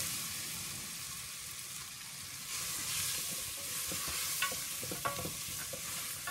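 Onions and spices for chicken couscous are stirred in a pot, giving a quiet continuous sizzle with occasional scraping and clinking strokes that grow busier toward the end.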